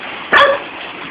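A single short dog bark, close and sharp, rises out of a hissy background.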